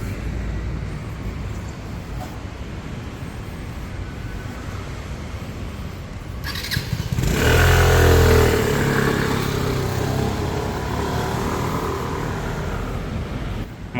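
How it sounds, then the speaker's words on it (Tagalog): Motor scooters pass along a street in Taiwan, a steady engine drone that swells as one rides close by around the middle, then eases back to a busy rumble of traffic; no talking. "mga sasakyan dito sa Taiwan puro mga scooter"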